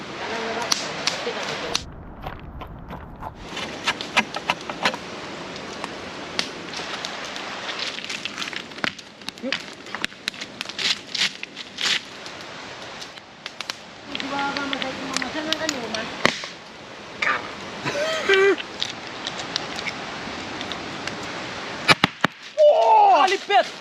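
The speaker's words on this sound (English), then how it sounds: "These volcanic rocks, when they're really hot, are exploding." Volcanic rocks heated in a cooking fire on a remote Vanuatu island crack and pop in sharp, irregular bursts over crackling flames, some loud and near. People talk at points in between.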